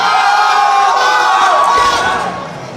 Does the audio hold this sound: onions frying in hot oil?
no